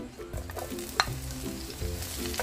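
Garlic frying in cooking oil in a pan for pork kare-kare, a steady close sizzle with a few stirring scrapes and a sharp clink near the middle.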